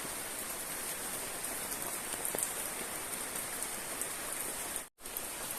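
Steady rain falling on surfaces nearby, a constant hiss of patter with a brief dropout near the end.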